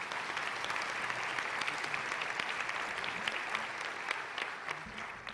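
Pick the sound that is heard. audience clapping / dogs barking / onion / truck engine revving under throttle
audience clapping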